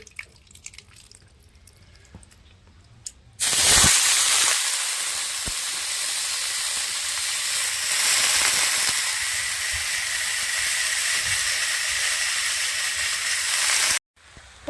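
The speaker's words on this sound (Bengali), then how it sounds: "কড়াতে তেল দিয়ে দিচ্ছি সরষের তেল প্রথমে চালটা ভেজে নিচ্ছি" Rice frying in hot mustard oil in a wok for khichuri: a loud, steady sizzle breaks out suddenly after a quieter start, keeps up a dense hiss for about ten seconds and then cuts off abruptly.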